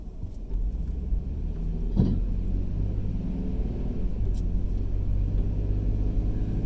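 Steady low road rumble and engine hum from inside a car driving through La Follette, Tennessee, continuous and fairly loud with a brief knock near the middle and no talk.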